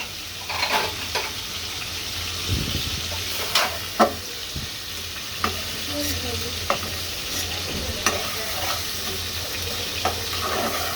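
Khichuri of three kinds of lentils and polao rice, soaked for half an hour, is put on to cook in a pot: a soft, steady sizzle with scattered sharp clinks and scrapes of stirring.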